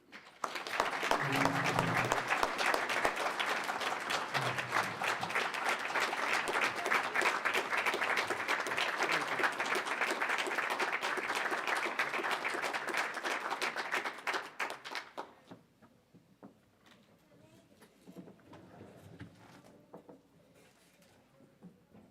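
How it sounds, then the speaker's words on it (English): An audience at a cooperative's annual meeting gives a sustained round of applause, dense clapping that holds steady for about fifteen seconds, then stops abruptly and leaves quiet room tone with faint movement. "please join me a round of applause for Bob"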